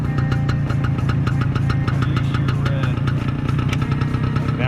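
A small lawnmower-like vehicle runs at an antique motorcycle swap meet, its engine chugging in a steady, close, loud idle with a knocking pulse, while a voice talks over it.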